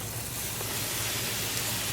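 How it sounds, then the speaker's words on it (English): Beer poured over bratwursts on a hot grill, giving a loud, steady, close sizzle and hiss of steam that holds unbroken for the whole stretch, with no talking. "so I'm going to go ahead and just pour beer on it."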